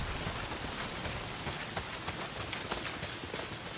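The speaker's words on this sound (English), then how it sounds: "Well, not if it's pissing down rain." Steady, dense rain pours down in the zombie survival game Days Gone, a continuous even hiss with scattered heavier drops, heard alone without voices.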